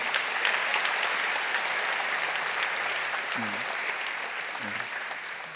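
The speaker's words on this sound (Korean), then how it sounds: "우리 박수 한번 쳐드릴까요?" A church congregation applauds a visiting soloist after a special song during a Sunday worship service, giving steady, dense clapping that holds at an even level throughout, with a few brief low voices underneath.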